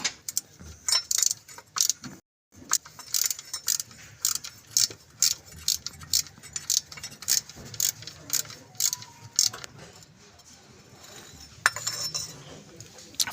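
A 10 mm ratchet taking off the cover over a Honda crankshaft position sensor, clicking in quick irregular bursts with small metallic clinks, close and moderately loud.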